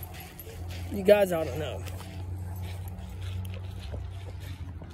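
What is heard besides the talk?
dog whimpering during a walk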